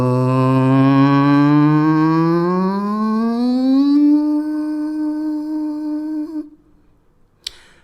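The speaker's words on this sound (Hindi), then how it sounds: "अभी मैं अपने गले से आवाज़ निकालूंगा, लो पिच से हाई पिच।" A human voice hums in one unbroken tone, gliding slowly and smoothly from a low pitch to a higher one over several seconds, then holding steady and cutting off into near silence.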